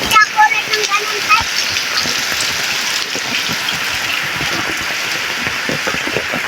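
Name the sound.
heavy rain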